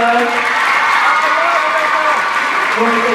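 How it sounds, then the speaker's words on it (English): An audience claps for Melissa at a fan event, a continuous broad spread of applause, loud and close, with voices talking over it the whole time. "So please give a round of applause to Melissa."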